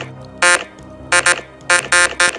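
A loud, harsh bus horn in a bus simulator game sounds in short bursts, one blast then two pairs of quick honks, over a low engine drone.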